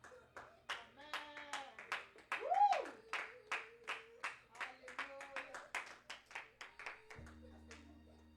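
A church congregation claps together for Jesus in a steady rhythm of sharp, evenly spaced hand claps. Voices call out and cheer over the clapping.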